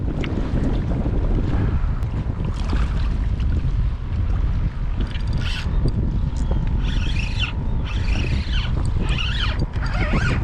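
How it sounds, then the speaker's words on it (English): Strong, gusty wind of about 20 mph roars continuously across the microphone outdoors near water while inshore fishing, loud and buffeting with no pauses. "the wind is ripping. It's like 20 mile an hour gusts"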